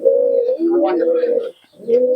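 A female pigeon at a pigeon sale in Murshidabad gives loud, close, drawn-out throaty coos in two long phrases separated by a brief pause.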